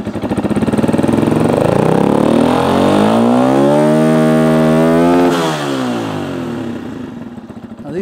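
A Beta 125 dirt bike engine revs close and loud, its pitch climbing and holding high before dropping back to a rough idle, with no talk over it.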